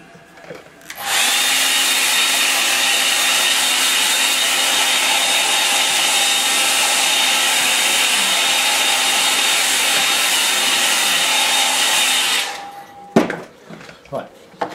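A hair dryer blows on a painting to dry the paint, a loud, close, steady roar that switches on after a second and runs for about eleven seconds before cutting off, followed by a few knocks.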